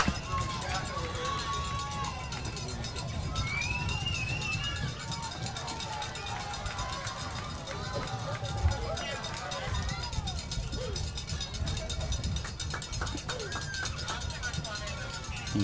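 At a high school football game between Dysart and San Tan Foothills, a crowd cheers and roars steadily in the background while a commentator talks over it.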